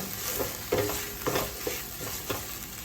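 A spoon scrapes and stirs a chickpea, raw mango and rice mixture in a pan, with several distinct scraping strokes at an irregular rhythm over a faint sizzle.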